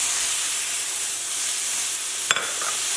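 Steak in a stir-fry pan, cooked with Brussels sprouts, carrot and ginger, gives off a steady, bright sizzle, broken near the end by a brief sharp clatter of food landing in the hot pan.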